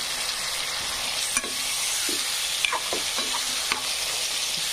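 Tomatoes fry with a steady close sizzle in a pan for a sprouted-bean usal gravy, while a utensil stirs them with scattered scraping clicks.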